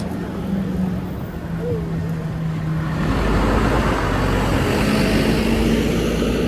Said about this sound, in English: Big truck behind me.